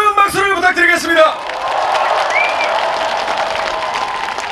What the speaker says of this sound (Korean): 여러분들 뜨거운 박수를 부탁드리겠습니다.